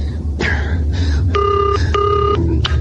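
A loud, close telephone rings in repeated electric bursts, two long trills spaced a short gap apart, with fainter noises in between and no talk over it.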